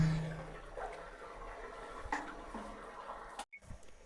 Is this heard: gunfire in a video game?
no